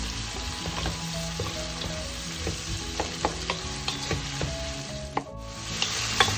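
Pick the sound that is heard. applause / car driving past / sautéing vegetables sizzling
sautéing vegetables sizzling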